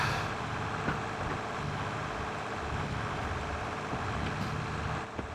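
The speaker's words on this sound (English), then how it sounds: "This is hard work for this tractor." A tractor engine in the Farming Simulator 22 video game works steadily under load while baling hay in a field, a continuous loud drone with no talk.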